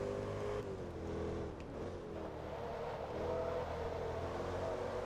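Engine of the Foose IS430 car in the racing game Forza Motorsport 2, a steady droning hum with slight pitch shifts, holding at moderate loudness throughout with no talk.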